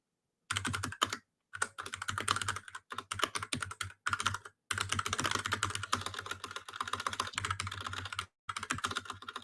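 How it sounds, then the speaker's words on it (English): Rapid typing on a gaming keyboard, close and crisp, with bursts of clattering keystrokes separated by brief silent gaps and a low steady hum underneath. "I do have a gaming keyboard, by the way."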